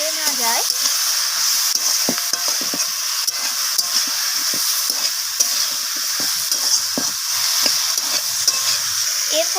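Vegetables with ginger and garlic paste and spices sautéing in a pan for a radish, kohlrabi and cauliflower-stem chorchori with small shrimp, with a steady sizzle and repeated scraping stirs close by.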